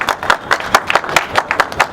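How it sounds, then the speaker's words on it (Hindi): Audience applause at a high-flying pigeon club award function, rhythmic and fairly close, with distinct hand claps in a loose beat throughout. "शादाब भाई के लिए बहुत जोरदार तालियां।"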